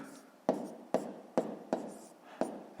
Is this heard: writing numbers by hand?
yes